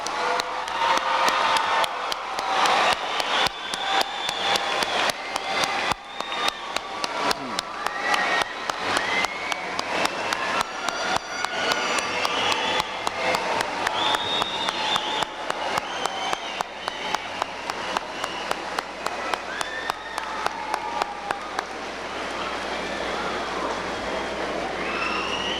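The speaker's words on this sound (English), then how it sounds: "Let's give them a big round of applause." Sustained applause from a high school graduation audience greeting the class of 1995, a broad continuous roar of many hands clapping, steady and fairly loud for the whole stretch.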